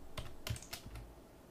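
Several quick keystrokes on a computer keyboard come in a short, uneven burst of close, soft clicks, then the sound trails into quiet.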